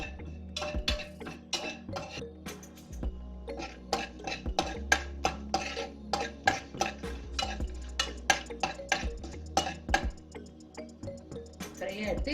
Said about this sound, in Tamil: பட்டை, கிராம்பு, ஏலக்காய், பெப்பர் எல்லாத்தையும் போட்டு 2 மினிட்ஸ் இதை ஃப்ரை பண்ணுவோம்